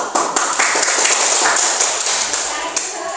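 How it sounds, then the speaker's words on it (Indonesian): Classroom applause for a student group, a dense burst of clapping that carries steadily for about three seconds, with voices talking over it. "beri tepuk tangan untuk kelompok"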